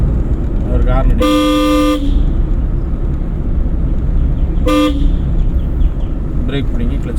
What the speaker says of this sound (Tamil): அவருக்கு ஹார்ன் அடி.